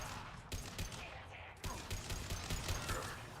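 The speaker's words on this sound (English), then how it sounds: "Firing an impact shot." Rapid gunfire from the video game Mass Effect, an impact shot among bursts of shots and mechanical clatter under a busy battle soundscape, fairly faint.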